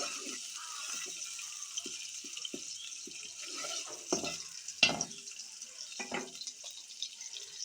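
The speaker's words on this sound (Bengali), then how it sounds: "কিছু রসুন বাটা, কিছু জিরা বাটা দিয়ে ভালোভাবে নেড়েচেড়ে মিশিয়ে নেব।" Garlic paste and cumin paste stirred and mixed in a pan while cooking potato and eggplant with dried fish, giving soft scraping and sizzling at close range with a few sharper clinks, alone without talk.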